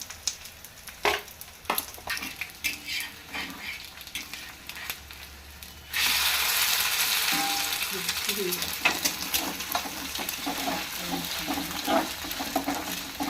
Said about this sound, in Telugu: ఆనియన్స్ ఫ్రై అవుతున్నాయి కదా